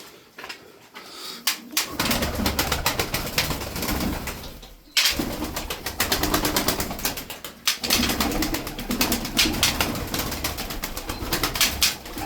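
Ankara Sütbeyazı pigeons coo in a loft, with bursts of wing flapping and rustling close by, broken by two brief pauses; no one speaks.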